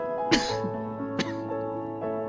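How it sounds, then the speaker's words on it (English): Two or three short coughs, the first loudest, over a steady tonal background of music or hum. "that cough's been haunting you for almost a year now"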